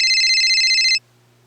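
A telephone rings close and loud with one steady, bright electronic trill lasting about a second, then it cuts off abruptly into near silence.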